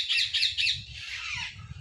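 At Sakkarbaug zoo in Junagadh, a parrot lets out a few harsh, piercing squawks in quick succession, loud and close, over a low background rumble.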